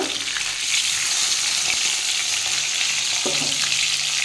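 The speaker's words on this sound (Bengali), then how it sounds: "আমি এদিকে এক অর্ধেক মাছের মাথা ছিল রুই মাছের মাথা ওটা ভেজে দিচ্ছি" Half a rohu fish head frying in hot oil, a loud dense crackling sizzle that runs steadily throughout, close up, with occasional sharper pops.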